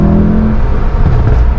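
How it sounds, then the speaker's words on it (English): A Mercedes E63 S AMG accelerates hard in first gear, a loud, close engine roar rising briefly. "All right, first gear pull."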